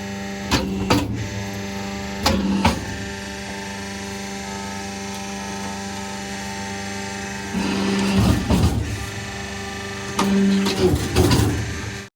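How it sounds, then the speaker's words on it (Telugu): A leaf plate making machine run at home as a cottage industry gives a steady mechanical hum, broken by a few louder clattering pressing bursts near the start and again toward the end. "ఇస్త్రాకుల మిషన్ ఇంట్లోనే పెట్టుకుంది"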